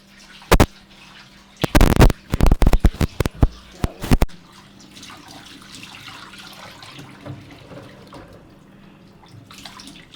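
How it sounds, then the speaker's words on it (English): Rice gets rinsed under a running kitchen tap, with a few sharp clatters and splashes at first, then a steady, soft flow of water trickling over the grains. "we're going to wash the rice as Alex says"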